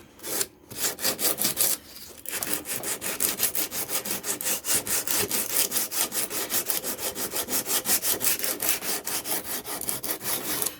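Steady back-and-forth sanding strokes on an aluminum fuel rail, feathering out gouges, with a rhythmic gritty rasp that runs continuously and close after a brief pause near the start.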